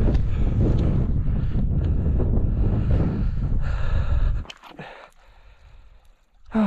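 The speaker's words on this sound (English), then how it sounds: "It's so windy up here." Strong wind on a mountain summit buffets the microphone in a loud, rumbling roar for several seconds, then drops to quieter gusts.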